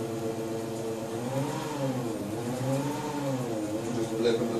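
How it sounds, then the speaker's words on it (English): Electric drive motor of a BMW E31 840Ci EV conversion, throttle blipped from idle: a steady tonal whir that climbs and falls back twice, moderately loud and close. "Just blipping the throttle there."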